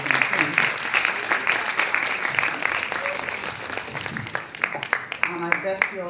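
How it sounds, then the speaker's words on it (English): Audience applause in a lecture hall after a doctor-patient interaction demonstration, a steady patter of clapping with voices mixed in and occasional louder claps. "we have to give a double round of applause"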